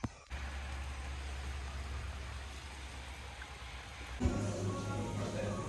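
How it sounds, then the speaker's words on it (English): Heavy rain pours outdoors on a cold morning before a 36 km UTMB trail race, a soft, steady hiss that continues throughout and grows a little fuller near the end. "It's pouring in rain"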